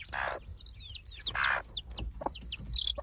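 An Araucana chicken, a tailless breed with small ear tufts, gives a short run of soft, close clucks and murmuring chatter in a farmyard coop.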